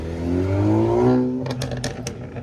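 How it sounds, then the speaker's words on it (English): A classic Alfa Romeo with a tuned exhaust revs up, its engine note rising and swelling before dropping back into a rougher, clattering idle, heard close at an outdoor car show. "Oh, that exhaust sounds so cool."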